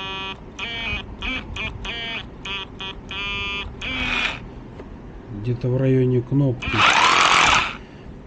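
A faulty rotary hammer drill runs in short bursts, stopping and starting in an uneven rhythm with a strained whine, followed by a longer harsh burst near the end, while a person talks close by between runs.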